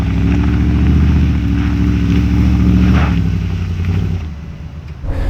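A loud, deep Ford V8 engine in a restored and modified Ford Bronco rumbles steadily with a throbbing exhaust burble, swelling slightly before easing off near the end.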